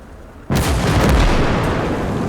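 Artillery and mortar fire from the Gates of Hell strategy game: a loud, sustained barrage of booming blasts erupts after a quiet half-second and rumbles on continuously to the end.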